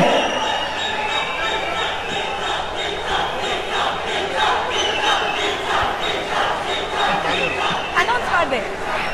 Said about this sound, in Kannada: ಬನ್ನಿ ಜೋರಾದ ಚಪ್ಪಾಳೆ ನಮ್ಮ ನಟ ರಾಕ್ಷಸ ಧನಂಜಯ್ ಅವರಿಗೆ.